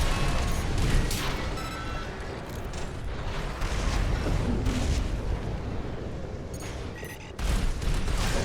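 Baus artillery cannons fire in the mech video game Armored Core 6, a dense run of heavy booms and blasts layered over rumbling combat noise, loud throughout.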